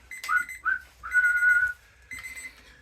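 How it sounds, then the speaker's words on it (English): A referee's whistle at a football match sounds in three sharp blasts, two short ones followed by a longer held tone, then a fourth blast a little later, shrill and fairly clear over faint background noise at half time. "Referee's got his whistle in his mouth."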